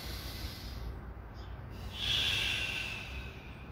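Deep breath in during a guided breathing exercise in a seniors' fitness class, a soft rushing inhale swelling near the mic, then a stronger audible draw of air that tapers off.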